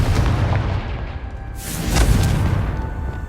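A Confringo spell blast in the video game Hogwarts Legacy: a deep, loud booming explosion with a sharp burst midway that rumbles and fades, set against a low ambient drone.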